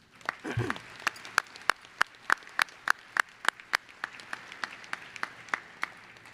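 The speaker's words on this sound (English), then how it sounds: "That's worth a round of applause." Sparse, evenly paced claps ring out at a commencement ceremony, a few crisp strikes each second held at a steady moderate level for several seconds.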